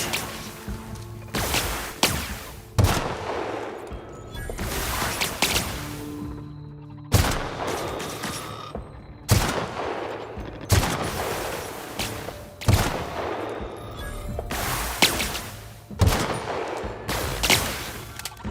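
Repeated bursts of video-game gunfire in The Outer Worlds, loud, sharp volleys separated by short pauses, fired against a crowd of robotic mechanicals, with no talk over the shots.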